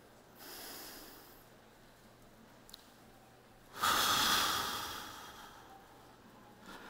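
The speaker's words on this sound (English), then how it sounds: "chooses a controlled breathing exercise" Slow controlled breathing exercise, a soft drawn-in breath followed by a louder, longer exhale rushing close to the microphone, then quiet.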